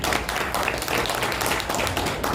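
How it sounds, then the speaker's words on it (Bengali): An audience at an event in Guwahati applauds a participant with dense, continuous clapping that stays steady and fairly loud from start to finish. "সুদীপ বাবুর জন্য হাততালি হোক"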